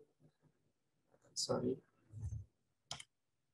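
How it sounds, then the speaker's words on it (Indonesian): A computer mouse clicks sharply a couple of times, close and brief, amid a man's speech during a VB.Net database programming lesson. "Anda double klik."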